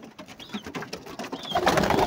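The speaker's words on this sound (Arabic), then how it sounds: "حمام معروض للبيع، حمام زواجل" Carrier pigeons cooing in a pigeon loft, soft repeated coos close by over a steady background of fluttering and movement that grows louder toward the end, with no voices.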